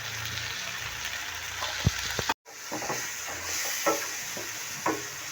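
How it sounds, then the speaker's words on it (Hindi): Salt, turmeric and garam masala roast in a pan with a steady close sizzle and hiss, punctuated by scraping stir strokes and a brief dropout partway through; no talking. "थोड़ा सा इसको भून लेंगे ताकि हमारे मसाले अच्छी तरह से भून जाएं"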